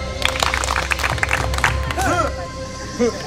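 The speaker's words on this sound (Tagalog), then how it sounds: "Limang palakpak at kalahati." A group at a camp game claps out a rapid run of sharp hand claps, followed by a voice speaking briefly once the clapping stops.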